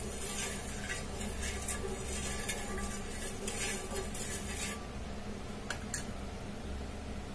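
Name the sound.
refined oil heating and sizzling on a hot tawa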